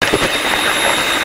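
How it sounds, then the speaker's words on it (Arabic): A loud, steady electric kitchen mixer whir with a high whine runs continuously while mixing eggs, cutting off abruptly at the end. "تقدروا تستعملوا غير الخلاط الكهربائي."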